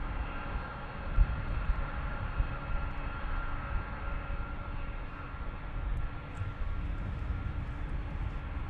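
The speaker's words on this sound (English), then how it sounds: "the next Dreamliner is already lined up at the threshold" A Boeing 787 Dreamliner departs runway 36L at Amsterdam Schiphol with a steady, heavy jet roar that holds at an even level, heard from a distance outdoors.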